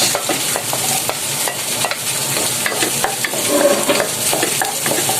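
Onion sautés in a pan for laing with dilis, a bright continuous sizzle close by, punctuated by frequent stirring scrapes and taps of a utensil against the pan.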